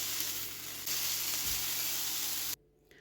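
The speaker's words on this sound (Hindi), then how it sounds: "मिर्चों को 1 मिनट के लिए फ्राई कर लिया, हाई आंच पे ही फ्राई किया" Chillies frying in a greased pan over high heat give a loud, steady sizzle that holds for over two seconds and then cuts off abruptly.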